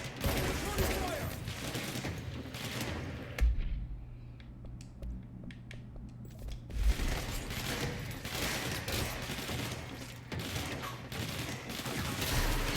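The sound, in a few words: gunfire in the video game Control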